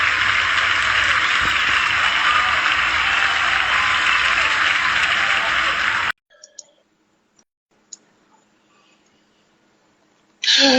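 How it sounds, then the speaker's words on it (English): A live concert crowd gives a sustained round of applause to welcome the guest, loud and dense for several seconds before cutting off abruptly, leaving scattered faint clicks and near silence until the sound returns at the end. "please give me a helping round of applause in welcoming our guest tonight"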